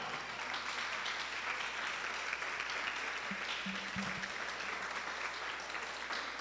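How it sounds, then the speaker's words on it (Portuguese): Church congregation applauding during a Brazilian sermon, a steady, faint wash of clapping throughout, with a brief low voice or tone breaking through near the middle. "Aplauda forte ao Senhor."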